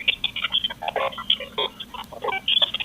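Encrypted P25 digital police radio traffic, a faint garbled burble of chirping, warbling digital bursts in quick irregular rhythm, with no clear talk.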